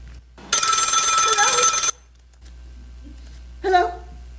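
An old-fashioned telephone bell rings in one long burst, loud and close, followed by silence and a brief short sound.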